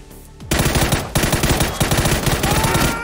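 Rapid automatic gunfire in a video game, loud and close, in repeated bursts after a brief quiet start, with a short pause partway through.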